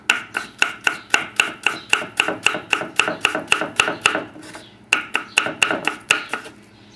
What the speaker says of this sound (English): So cut all the cucumber up like that.